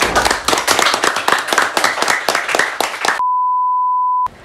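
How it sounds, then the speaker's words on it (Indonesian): Applause at a university student event, with rapid clapping for about three seconds that cuts off abruptly, followed by a steady electronic beep tone and silence. "Tepuk tangan yang luar biasa sekali lagi"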